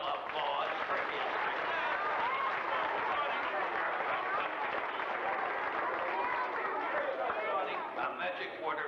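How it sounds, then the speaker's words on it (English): Audience at a 1980s Pittsburgh magic show applauds a magician's helper, a steady wash of clapping mixed with crowd chatter and voices throughout. "So let's give Jonathan a little applause"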